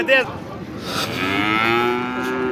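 A cow gives a long, loud, rising moo close by at the Talagang animal market, preceded by a short sharp bleat-like call.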